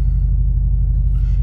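A Mercedes-AMG SL 63 engine rumbles with its exhaust valves open, a deep, close, steady low growl lasting just over a second, with no voices over it.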